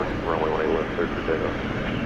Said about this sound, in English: And you hear the plane,